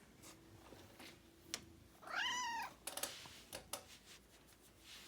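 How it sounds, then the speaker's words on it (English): Indoors, a pet cat gives a single close, rising-and-falling meow. Faint clicks and taps sound around it in an otherwise quiet room. "And we got the kitty meowing."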